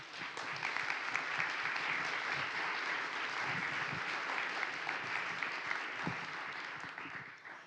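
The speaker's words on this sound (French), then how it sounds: "je vous demanderai de les applaudir très fort" An audience at an evening public talk applauds the event organisers, sustained even clapping that fills the whole stretch at moderate distance and fades slightly at the very end.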